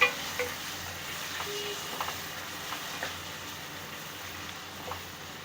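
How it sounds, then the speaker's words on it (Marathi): Chopped tomatoes fry in a spiced masala in a pan, a soft steady sizzle with a few faint clinks and scrapes of stirring, quiet and continuous with no talking. "टोमॅटो चांगले परतून घ्यायचे मसाल्यामध्ये"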